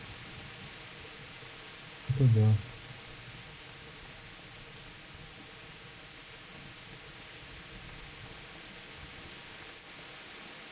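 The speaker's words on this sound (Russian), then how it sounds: "Ой, вот это ливень." Heavy downpour in the video game Kingdom Come: Deliverance, a dense, even roar of rain sustained throughout, with a brief spoken remark near the start.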